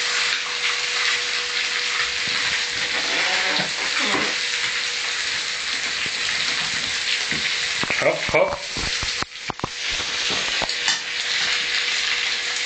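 Cutlets fry in oil in a pan with a steady, close sizzle that runs the whole time, broken by a few clatters of utensils and a brief voice.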